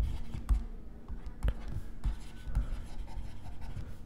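A pen scratches equations onto paper during a tenth-grade maths lesson on linear equations, making faint close strokes with several soft taps as it touches down, steady and quiet with no talking.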